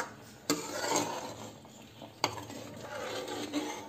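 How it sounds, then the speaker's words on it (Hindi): A spoon stirs a homemade potato, pea and tomato curry in a pan, giving soft scraping and two sharp clinks against the metal side, close and fairly quiet with no voices. "अब इसको हम एक बार चला के देखते हैं"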